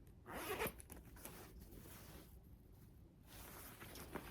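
Zipper pulled along the zippered middle compartment of a name-brand handbag, a quick close rasp followed by quieter handling rustle.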